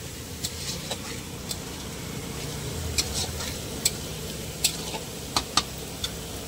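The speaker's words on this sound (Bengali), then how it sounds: "তো ফ্রায়েড রাইসের ভেজগুলোকে ভেজে নিচ্ছি একটু।" Vegetables for fried rice frying and being stirred in a pan, a steady soft sizzle with scattered light clinks and scrapes of a utensil, fairly faint and steady with no talk.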